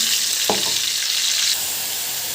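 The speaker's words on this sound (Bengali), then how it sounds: "এখানে আমি আদা রসুন পেঁয়াজটা বেটে রেখেছি, ওটা আমি সুন্দর করে ভেজে নেব আগে" Loud, close sizzling of ground ginger, garlic and onion paste frying in hot oil, a dense hiss with one sharp knock early on, steady throughout.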